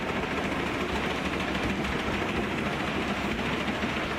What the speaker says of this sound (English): 1300 and 1500 wood chipper, which uses a formidable Caterpillar engine that delivers an impressive 1200 horsepower.